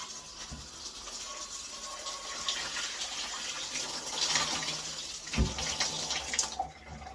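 A newly installed shower head sprays water, a steady hissing rush that continues throughout with a few bumps and handling knocks.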